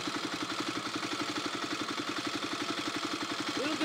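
An idling engine runs with a fast, even clatter of a rattling timing chain tensioner, a steady rhythmic ticking pulse at moderate level heard close up.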